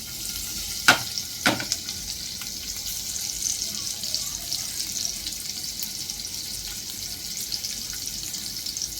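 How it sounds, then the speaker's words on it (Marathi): Cumin, asafoetida and garlic dropped into hot oil, a loud steady sizzle and crackle right up close, a couple of sharp pops near the start, then continuous hissing frying with no talk. "तेल गरम झालं की त्यामध्ये जिरं घालायचं, हिंग घालायचं, लसूण घालायचं"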